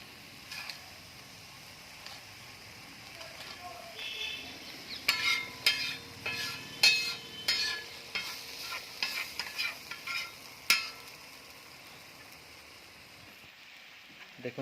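Fish cooks slowly on a tawa over a low gas flame, with a quiet, soft sizzle. Midway comes a run of louder scraping and clinking as the fish is turned, then it settles back to near quiet.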